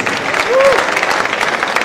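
An audience at a Kenya Film Commission awards event gives a round of applause for the winners, a dense steady clatter of many hands filling the short stretch, with a brief voice rising over it midway.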